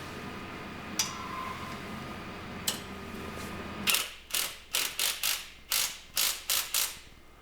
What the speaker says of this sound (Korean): 그리고 뒤쪽에 있는 볼트 체결해 주시고요